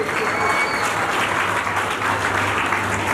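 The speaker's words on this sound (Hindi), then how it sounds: "सबसे पहले आप लोग प्लीज जोर से ताली बजाइए इस ग्रुप की मेहनत के लिए।" Loud, sustained applause from a large audience at an annual award function, clapping for a group, dense and continuous throughout with no break.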